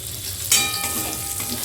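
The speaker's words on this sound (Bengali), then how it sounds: "ওই তেলেই দিয়ে দেব একটা শুকনো লঙ্কা, একটা তেজপাতা আর সামান্য একটু জিরে" Dry red chili, a bay leaf and cumin seeds fry in hot oil as a tempering, a close bright sizzle that jumps up sharply and then settles into a steady crackle, with no talk.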